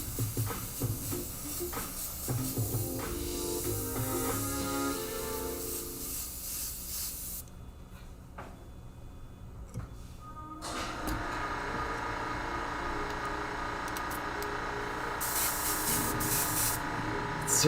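An airbrush spraying orange paint onto a skull design, a close, airy hiss that runs in bursts, pauses for a few seconds in the middle, then resumes steadily.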